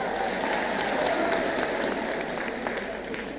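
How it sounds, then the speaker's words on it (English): An audience at a women's event at a Catholic University gives warm, continuous applause, a thick spread of claps with a few crisp standouts, steady and fairly loud throughout. "We also give them a clap,"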